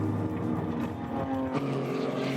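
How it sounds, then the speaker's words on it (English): Porsche 928 race car crossing the finish line, a steady droning engine note with shifting harmonics, continuous and fairly close. "Over the line comes the Porsche 928 of Andre Reinecker"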